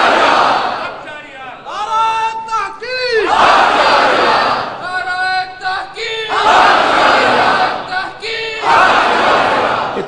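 A large crowd at a Sunni religious conference chants a slogan in loud unison, several bursts of massed shouting alternating with a single leader's voice calling out between them.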